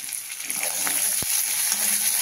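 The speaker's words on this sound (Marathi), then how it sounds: "थोडीशी कोथिंबीर, थोडा यामध्ये लसूण टाकून घेऊ." Chopped garlic and coriander frying in a pan for a spiced eggplant bharit masala: a brief, even hiss of sizzling oil with a single sharp tap near the middle.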